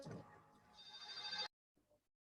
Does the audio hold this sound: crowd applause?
no